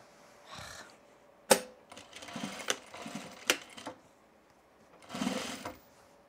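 Sewing machine stitching through a tool belt, with short bursts of stitching separated by pauses and a few sharp clicks, close and moderately loud.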